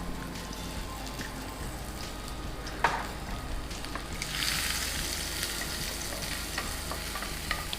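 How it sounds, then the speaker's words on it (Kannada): Finely chopped onions fry with a bay leaf in a pan, a steady crackling sizzle up close that swells brighter partway through, with a sharp clink of a utensil along the way. "ಕಲರ್ ಬರೋವರೆಗೆ ಫ್ರೈ ಮಾಡ್ಕೋತೀರಾ ನೀವು?"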